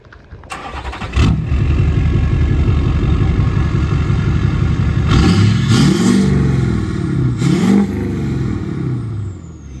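A 2002 Ford F350 dually with a 7.3 Powerstroke diesel and no exhaust fitted starts up, settles into a loud, close, clattering idle, then gives a few hard revs.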